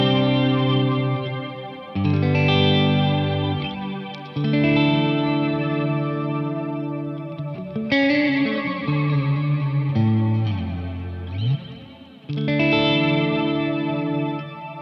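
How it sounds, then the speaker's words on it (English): An electric guitar plays sustained chords through an MXR reverb pedal set to a polyphonic pitch-shifting reverb, giving shimmering octave-shifted layers that swell and blend as each chord rings out alone. "it's using the same pitch shifting, polyphonic pitch shifting algorithm as the Mxr poly blue octave"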